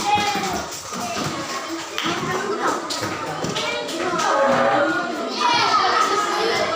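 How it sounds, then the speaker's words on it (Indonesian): A classroom of students claps for a group, a dense, steady patter of many hands that swells slightly near the end, with children's chatter mixed in. "tepuk tangan untuk kelompok 1"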